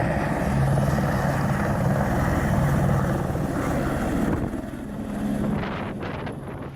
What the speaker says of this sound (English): The helicopter has just dropped off the 3 climbers.